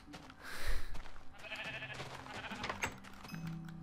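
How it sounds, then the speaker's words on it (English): Sheep bleat in a Minecraft-style rainbow wool challenge game, several wavering calls over a few seconds, one louder bleat early on and quieter ones after, mixed with light game sounds. "Come here, sheep."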